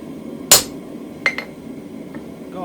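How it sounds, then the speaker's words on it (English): A hammer strikes a chisel along a hand-forged steel toasting fork: one sharp, loud ringing blow, then a second clanging hit with a quick echo, set against a quiet workshop. "chisel a little bit, move along, chisel a little bit, to the end, then make it into a line."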